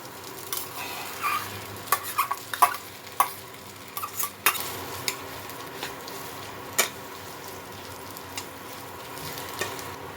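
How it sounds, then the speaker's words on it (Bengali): Boiled potato pieces frying in a little mustard oil in a wok give a soft background sizzle, with scattered sharp clicks and scrapes from a spatula stirring close by, clustered early on and fading to sparse taps later. "এই তেলের মধ্যে আমি এই সেদ্ধ করা আলুটা একটু নাড়াচাড়া করে নেব"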